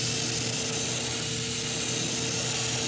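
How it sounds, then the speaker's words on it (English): An airbrush or spray gun hisses continuously while spraying clear coat onto a custom-painted shad fishing lure, a steady, loud, broadband spray with a faint motor hum underneath and no talking. "we're going to spray a little of this clear"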